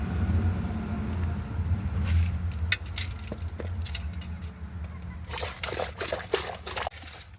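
Trevally fish are rinsed by hand in a vessel of water before frying, with continuous sloshing and splashing. Brighter, sharper splashes come toward the end.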